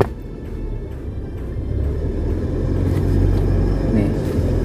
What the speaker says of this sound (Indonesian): Kayak kalau saya lepas pedal koplingnya, muncul suara itu lagi tuh